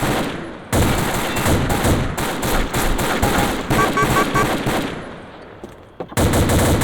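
Gunfire in the video game Combat Arms from an M24 sniper rifle, loud, dense bursts of shots filling most of the stretch, with a brief gap near the start and another near the end.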